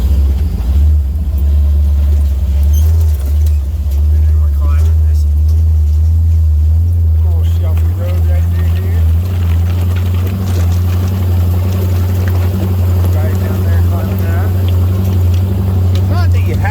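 A side-by-side UTV climbs a trail in four-wheel drive, its engine a loud, close, steady low rumble that pulls through the whole stretch, with someone talking over it.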